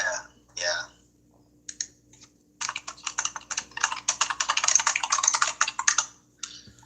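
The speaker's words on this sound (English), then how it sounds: "you can hear the typing." Rapid typing on a computer keyboard: dense, uneven runs of crisp key clicks, close and clear, with short pauses between bursts.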